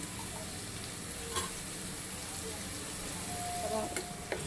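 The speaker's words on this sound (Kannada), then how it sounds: "ಈರುಳ್ಳಿ ಮೆಣಸಿನ್ಕಾಯಿ ಸ್ವಲ್ಪ ಎಣ್ಣೆಲಿ ಚೆನ್ನಾಗಿ ಫ್ರೈ ಆಗಲಿ" Onions and green chillies fry in a little oil, giving a soft, steady sizzle with a few clinks of stirring, close and fairly quiet, with no speech.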